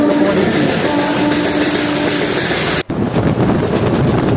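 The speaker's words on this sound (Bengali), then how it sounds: "আমাদের ট্রেন এখন নলহাটি জংশন স্টেশনে ছেড়ে মুরারয় রামপুরহাট মেন লাইনে ক্রস নিচ্ছে" Kaviguru Express rolling along the Murarai–Rampurhat main line after leaving Nalhati Junction, heard from inside a general coach near the rear: a loud, steady rumble of wheels and carriage that drops out for an instant, then resumes.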